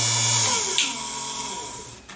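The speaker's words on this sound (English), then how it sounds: "it did drill a 2mm hole" A drill press with its bit held hand-tight in the chuck bores a 2mm hole, giving a close, steady high whine with a slight pitch shift as the bit cuts, fading at the end.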